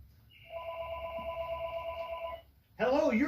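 A telephone rings during a live sewing and vacuum shop stream, a steady electronic ring lasting about two seconds at moderate level over low background hum, followed by a burst of speech.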